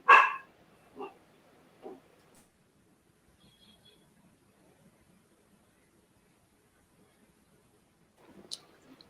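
A dog barks once loudly up close, followed by two softer barks, then quiet before a few faint yips and rustles near the end.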